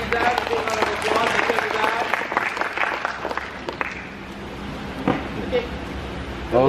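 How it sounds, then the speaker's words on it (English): An audience applauds a student named Hafizah during a public speaking class, a dense wash of clapping with voices mixed in, steady and fairly loud throughout. "let's give Hafizah a big round of applause."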